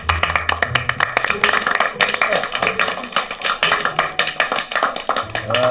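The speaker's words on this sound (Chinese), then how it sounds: "来，鼓鼓掌！ 欢迎。" Applause welcoming a new doctor to a hospital emergency department: a room of people clapping steadily and briskly, dense overlapping claps that continue throughout at close range.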